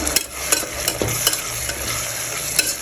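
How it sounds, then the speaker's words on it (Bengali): Chopped ginger fries in a pan while a spoon stirs it, giving a close sizzle with rhythmic scraping strokes about every half second, with no talking. "আদা লুটো কুচিগুলো দিয়ে দিচ্ছি এটাও ভালো করে ভেজে নিতে হবে"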